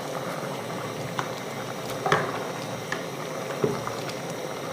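A pot of bean stew with onions boils at a steady rate. Soft bubbling and popping go on without a break, with a few louder plops rising above the simmer.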